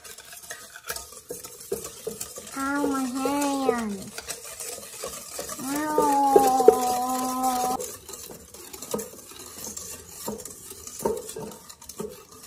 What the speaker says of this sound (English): And now we're going to mix it all up.